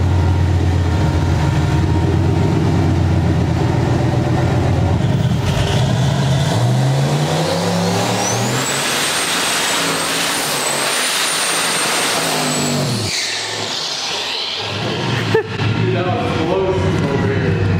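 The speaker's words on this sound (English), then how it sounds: "I'm hurt that it didn't do that good of a burnout" An LS-swapped old Nissan pickup revs hard during an indoor shop burnout, its loud, continuous engine roar climbing and holding high with a rising whine before easing off, and voices are heard over it.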